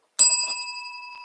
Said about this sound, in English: Got my hotel bell.